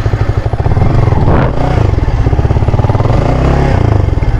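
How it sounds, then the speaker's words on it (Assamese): A Yamaha R15 V3 motorcycle stuck in mud revs loudly and steadily up close, its engine note pulsing continuously throughout with a brief surge near the middle. "বোকাত ফচি গ'ল বাইকখন"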